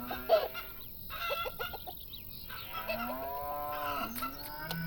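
Cows mooing in the Farm Manager 2018 farming game, several drawn-out low moos overlapping with clucking hens in the background, steady and moderately loud.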